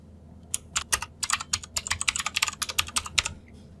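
Quick, irregular clicking of keys on a computer keyboard, close and crisp, in a steady burst of typing with no voices.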